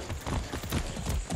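Horse hooves clip-clop in a steady, close rhythm in Far Cry 6, a brief run of quick hoofbeats with no talking over them.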